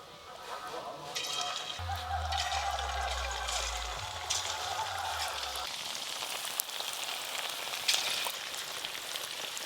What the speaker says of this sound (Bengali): তেল তো বেশ ভালো করে গরম হয়ে গেল, এবার একটা একটা করে চিকেনের পিস দিয়ে খুব ভালো করে ভেজে নেব।